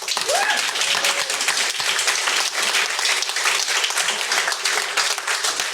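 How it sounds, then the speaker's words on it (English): Audience applause at a conservation commission special meeting, loud close clapping from a roomful of people that stays dense and steady for several seconds. "If you guys could please hold your applause and let the speaker speak."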